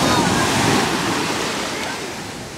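Surf washes steadily onto Sai Kaew Beach in Pattaya as a broad, continuous hiss, mixed with wind buffeting the microphone and fading slightly toward the end.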